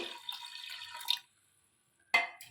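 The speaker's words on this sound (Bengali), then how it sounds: "এখানে পরিমাণ মতন আমি জল দেবো" Water splashes into a pressure cooker holding a dish of snails being cooked, a soft pour that stops for a moment and then starts again briefly with a bright splash, quiet overall.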